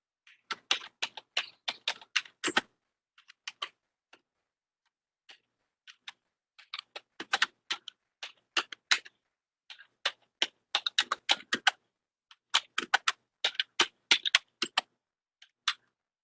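Code is typed on a computer keyboard in quick bursts of crisp, close key clicks, separated by short silent pauses, with no talking.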